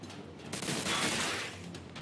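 Gunfire in Mafia 2 rattles as a dense, fast burst of shots aimed at the player, loud and continuous for about a second before easing off.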